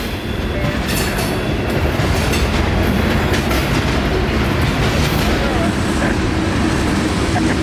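A CSX freight train loaded with phosphate from the Bone Valley mines rumbles past close by in Central Florida, a loud, steady roar of wheels and cars with faint clickety-clack throughout.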